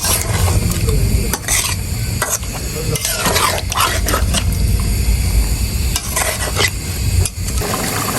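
Poa fish sautéing in a pan, a loud sizzle under repeated clattering stirs and scrapes of a utensil against the metal pan, with no talking.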